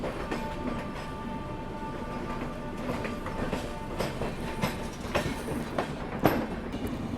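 Howrah Rajdhani Express pulling away from the station in fog, a steady low rumble of the moving train with rhythmic wheel clicks and a few sharp metallic squeaks, heard from on board and moderately loud throughout.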